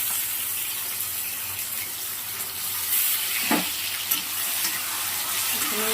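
Continuous loud sizzle of tomatoes frying in a pan with dried chillies and ginger-garlic paste, with stirring scrapes and a few sharper clatters near the middle.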